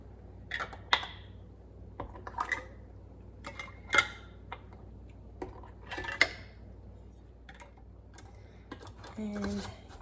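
Hot metal canning lids and jar bands are handled and screwed onto jars, giving scattered clinks, taps and clicks up close. Quiet background voices can be heard between the knocks.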